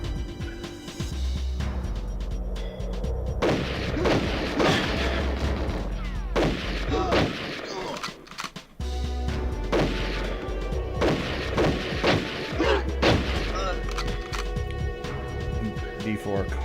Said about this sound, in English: All right, grenade launcher.